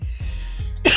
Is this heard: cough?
yes